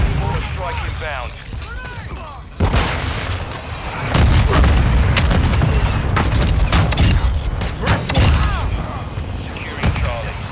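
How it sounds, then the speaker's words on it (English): Mortar strike explosions in a Call of Duty Modern Warfare 2 multiplayer match, a run of heavy booms and dense rolling blasts, loud and near, mixed with game voice callouts and chatter. "Friendly mortar strike inbound"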